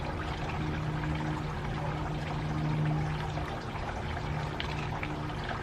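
A garden fountain's water pours and splashes steadily, a continuous close trickling rush with no breaks and no voices.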